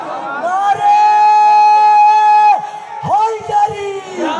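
A crowd at a religious gathering shouts a loud, sustained response to a slogan, the voices swelling into one long chant, breaking off, then rising again in a second shorter burst.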